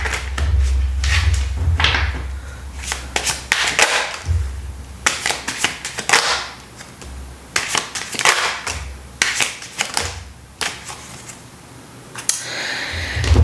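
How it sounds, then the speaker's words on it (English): Repeated bursts of rapid flapping and riffling as tarot cards are shuffled, several rounds separated by brief pauses, close and crisp. "Okay, one more shuffle."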